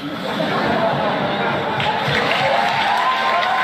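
A studio audience at a French talk show applauds and cheers in a steady wash of clapping and crowd noise, with scattered voices mixed in.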